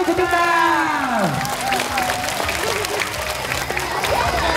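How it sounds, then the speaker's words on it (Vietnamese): Applause and cheering from a crowd welcoming a priest at a parish summer camp, steady clapping under a loud voice with a falling, swooping tone at the start. "Xin cho chúng ta cho một tràng pháo tay. Thật lớn để chào đón cha tráng xương của chúng ta."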